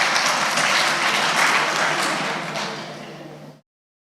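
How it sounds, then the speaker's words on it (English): An audience applauds President Museveni at a business event, a dense, steady wash of many hands clapping close by that fades out after about three and a half seconds. "So please clap for President Museveni."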